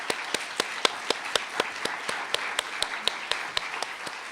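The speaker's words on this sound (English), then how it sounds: "Please give a round of applause to our panelists." An audience at a NASA event celebrating women in aerospace and innovation claps for the panelists, a steady patter of individual claps with a few sharp, close hand claps standing out.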